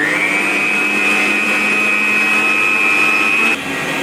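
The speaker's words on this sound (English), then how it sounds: "I'll just whisk it for another 2-3 minutes." An electric whisk beats fluffy orange raisin cake batter with a loud, steady, close motor whine that holds one high pitch, then drops away abruptly near the end, with nobody speaking.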